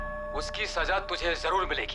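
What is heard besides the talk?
church bell ringing in background of recorded threat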